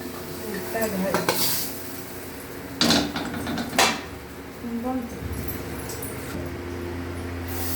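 Egg curry masala fries in a pan with a steady sizzle while a spoon scrapes and knocks against the metal in a few sharp bursts, close and moderately loud.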